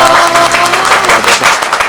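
A Thai studio audience on Baan Im Suk gives loud, dense, continuous applause to welcome guest Not Nuti Khemayothin. The clapping holds steady throughout with hardly any talking.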